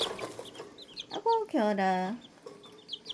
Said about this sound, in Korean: 이 녀석이 세상에서 가장 작은 닭 세레마고요